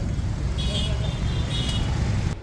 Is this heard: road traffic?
yes